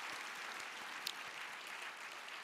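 A church congregation applauds at the close of a sermon series, a soft, distant wash of steady clapping with no talk over it.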